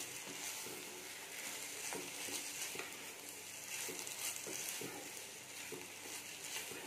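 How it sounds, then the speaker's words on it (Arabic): Rice with vegetables is stirred in a pan with a spoonful of oil, giving a steady scraping and soft sizzle, with a few scattered spoon scrapes through a continuous frying hiss and no talk. "وكده حطينا الرز اهو، هنقلبهم مع بعض"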